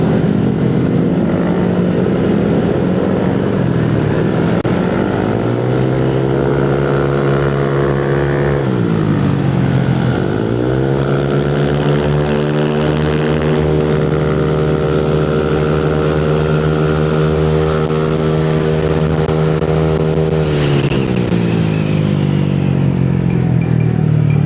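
Several Honda Click 175cc scooters riding together on a touring trip in Zambales, a loud, close, steady engine drone that rises and falls in pitch as the riders accelerate and ease off, with no talking.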